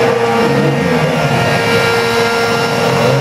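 A CNC machine's stepper motor runs while cutting an oval, giving a steady, loud, close whine with layered tonal hum and no talk.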